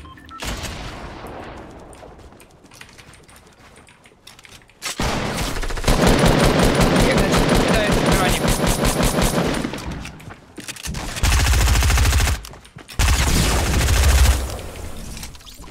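Shotgun fire in a video game, with heavy, loud, repeated blasts in dense bursts separated by short quieter gaps, close and booming, with no talk over them.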